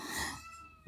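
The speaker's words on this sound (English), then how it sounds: "And that's my cat, Dizzy Wizzy, my trans cat." A cat gives a short meow, fairly close and loud, tapering off with a faint bleat-like tail and a soft thump at the end; no talking.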